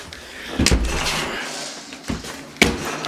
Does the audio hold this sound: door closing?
yes